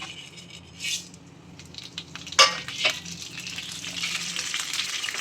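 Dried red chillies and onion fry in hot groundnut oil for a country chicken curry, crackling continuously with a sharp metallic clink of a spoon on the pan and occasional stirring bursts.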